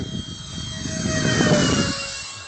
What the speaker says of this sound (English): That is a darn good little airplane,